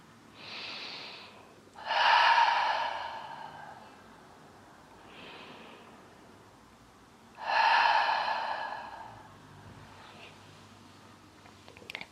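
Two slow, deep yoga breaths sound close to the microphone, each a long breathy inhale followed by a louder, fuller exhale, separated by quiet pauses.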